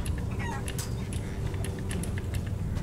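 Chickens cluck and squawk in the video game Resident Evil Village, several sharp calls scattered over a steady low ambient rumble, fairly close and without any talking.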